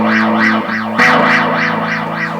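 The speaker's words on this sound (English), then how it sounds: "this is a ring modulator" A guitar tone run through a Dunlop ring modulator pedal, metallic and warbling, loud and close, pulsing rhythmically with a harsh, bell-like shimmer.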